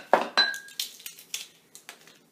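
A teaspoon of salt goes into a bowl while making crusty chia seeded artisan bread, giving a few close, sharp metal-on-dish clinks followed by lighter taps, with no talking.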